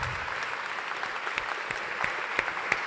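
An audience claps steadily to welcome Tokyo Governor Koike onto the stage, a moderate, even wash of applause with a few sharper claps standing out nearby.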